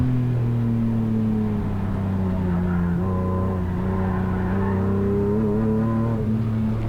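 BMW E36 rallycross car engine droning loud and steady through a corner, its pitch dipping and holding with faint tyre scrub, continuous throughout with no talk.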